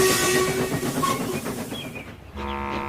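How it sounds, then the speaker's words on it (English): A steam locomotive whistle sounds over rumbling, clattering train movement in a Blue Train remake, a loud sustained tone that fades as the rolling noise thins, then a steady harmonic whistle swells back near the end. "it was swallowed up by the sound of Murdock's whistle"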